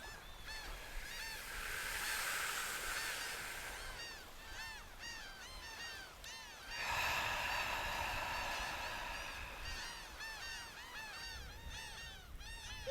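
A flock of geese honks outdoors, many overlapping calls rising and falling in two loud waves over a steady rush of background noise, fairly distant and with no talking.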